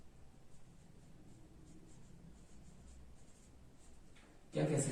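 Faint scratching of a pen or chalk writing a short definition by hand during a maths lesson on sets, quiet and continuous, with a louder clatter right at the end.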